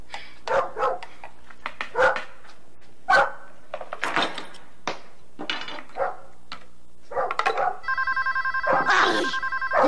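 A dog barks repeatedly in short loud bursts, with a telephone ringing near the end overlapping the barks.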